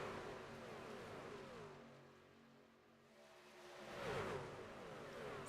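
Race trucks in a racing video game speed down the backstretch at Daytona, a steady engine drone that swells as a truck sweeps closer near the end, moderate in level with no talk.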